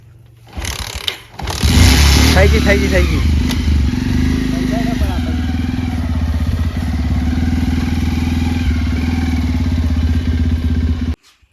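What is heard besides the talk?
motorcycle engine starting then idling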